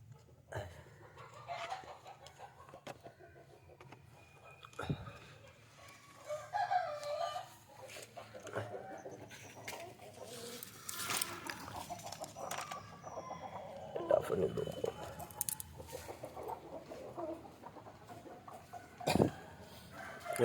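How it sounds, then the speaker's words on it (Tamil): Native country chickens in a coop during egg collection, with scattered clucking and occasional crowing over a low background hum, fairly faint and irregular throughout. "இது பார்த்துருங்க, கோழி கூட்டுல இந்த முட்டை எடுக்கக்கூடிய வீடியோ தான் இது."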